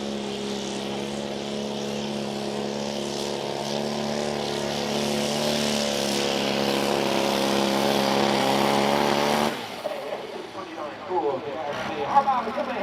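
Tractor-pull truck with a small four-cylinder engine making an exhibition run, a loud, steady engine drone with strong harmonics that rises slightly, then cuts off abruptly near the end, leaving scattered noise and crowd sounds.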